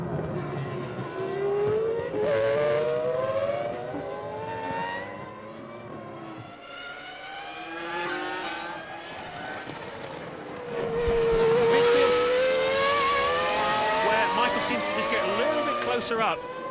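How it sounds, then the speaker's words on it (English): Formula 1 cars at Interlagos during the 2001 Brazilian Grand Prix, including a Ferrari and Montoya's car, scream uphill under full power. The high engine notes rise and fall as they pass, loud beneath continuous commentary. "it's just pulling up the hill where the engine power is all important, Martin"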